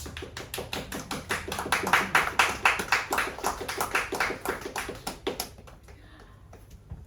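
Applause at a graduation-style congratulation during a Ukrainian community borscht event in London: a rhythmic run of sharp, evenly spaced claps that swells, then thins out and fades near the end.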